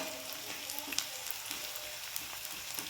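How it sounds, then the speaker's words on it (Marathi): Chopped onion and curry leaves fry in a pan over cumin, giving a steady close sizzle with small pops and crackles throughout, without talk. "एक कांदा घालून घेते व्यवस्थित ह्याच्यामध्ये कढीपत्ता घालून घेते"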